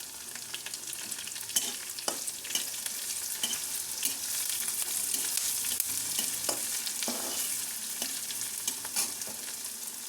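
Onions and curry leaves fry in hot oil while being stirred, a steady close sizzle with occasional scraping and stirring scrapes throughout, no voices.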